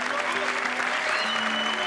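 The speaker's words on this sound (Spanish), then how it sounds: "Un aplauso fuerte para Ipek Boran, que ha sido el pilar de mi" Applause from a show audience during a televised drama finale, steady clapping filling the whole stretch with a sustained tone running beneath.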